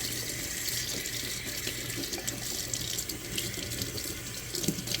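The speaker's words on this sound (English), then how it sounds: "And then we're just going to rinse it out." A purse lining being rinsed under a running kitchen tap, a steady close rush of water splashing into the sink without pause, with no voices.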